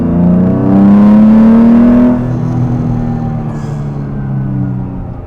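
A car accelerating hard, a loud close engine note climbing in pitch through a gear, then briefly dropping and pulling again, with no speech over it.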